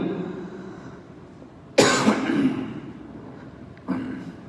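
A single harsh cough bursts out over low background hum during an evening mosque lecture in Terengganu, followed a couple of seconds later by a shorter, softer second cough.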